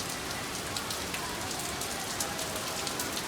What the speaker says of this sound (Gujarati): ને ત્યાં લીધો વરસાદ